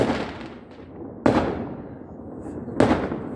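New Year fireworks explode outdoors in a continuous distant rumbling crackle, punctuated by two loud, sharp nearby bursts about a second and a half apart, with no talking.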